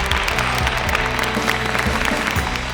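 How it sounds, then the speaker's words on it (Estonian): Applause from an audience at a young masters' bricklaying competition, honoring the male contestants: dense, steady clapping that fills the whole stretch at a loud, even level, with faint tonal sounds running underneath. "teeme ka suure aplausi nendele meestele"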